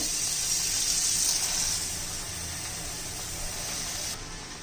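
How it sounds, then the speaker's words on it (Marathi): Water splashes and gushes as mangoes are washed in a basin, louder at first, then settling to a softer steady trickle. "अजून मी 2 पाण्याने पुन्हा धुवून घेते."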